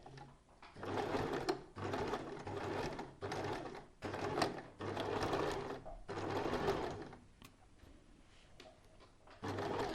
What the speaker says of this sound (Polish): Zaczynamy szyć na 1 cm od brzegu.